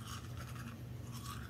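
Close, quiet scrubbing of a toothbrush on teeth, a steady rapid back-and-forth bristle rasp with no talking.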